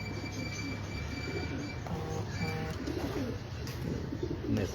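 Low, soft cooing from a pigeon of an antique breeder variety, repeating steadily through a dense rumble of background noise with no one speaking.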